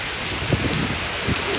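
Heavy rain pours down at night beneath a mango tree, a dense steady hiss of drops with a few deeper low thumps mixed in, loud and continuous.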